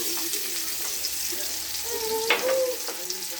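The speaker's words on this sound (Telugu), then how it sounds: "ఇప్పుడు ఉల్లిపాయ పచ్చిమిర్చి వేస్తాను." Onion and green chilli frying in hot oil with cumin and mustard seeds, a steady close sizzle with a few stirring scrapes and light clinks.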